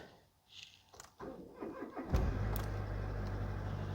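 A 2002 Mercedes A-Class engine cranks briefly, catches and settles into a steady, low idle rumble, heard up close with no talking.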